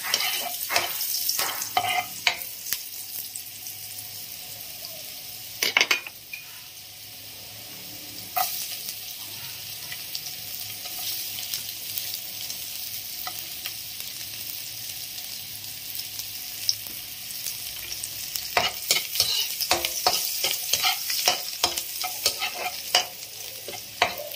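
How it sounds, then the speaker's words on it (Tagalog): Ginger fries in a pan with a soft continuous sizzle, broken by bursts of spatula scraping and stirring near the start, around the middle and toward the end, close and without talk. "Niluluto ko po yung luya."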